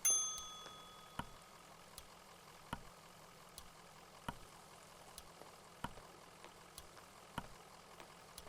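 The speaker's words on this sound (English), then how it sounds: "let's go ring that bell" A bell in the Kentucky Route Zero video game rings in a series of separate clanging strikes at a slow, roughly regular pace, each ding fading away over a low steady hum, with no talking.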